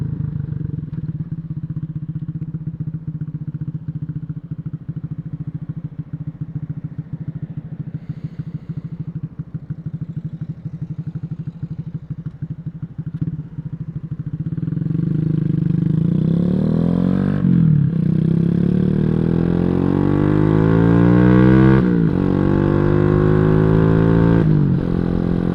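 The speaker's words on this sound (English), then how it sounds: "for a little 125cc, it's got so much power" A Boom Vader 125cc motorcycle geared to a 17 sprocket, its small single engine droning steadily, then accelerating through rising revs and gear changes, loud and close from the rider's position.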